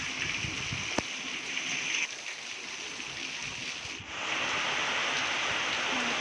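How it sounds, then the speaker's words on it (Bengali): Steady rain drums on the tin roof of a house in a village, a dense continuous hiss and patter with no break, close and fairly loud, with one or two sharper drip knocks and no voices. "আর এই বৃষ্টির আওয়াজটা এত ভালো লাগছে কি বলবো।"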